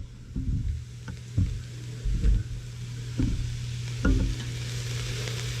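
Onion frying with ground beef in a pot for soup, a steady low sizzle with periodic stirring scrapes at roughly one-second intervals, close and fairly quiet with no talking.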